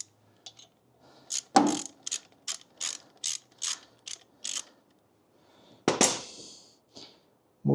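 Ratchet wrench backing out a motorcycle engine's pinion shaft bolt: a burst of sharp clicking strokes, then a run of evenly spaced clicks, a pause, and another loud clicking burst, close up and with no talking.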